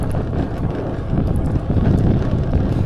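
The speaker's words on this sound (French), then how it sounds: "Et toujours ce vent" Steady wind buffets the microphone outdoors on open plains near woods, a continuous loud rumbling roar with no speech.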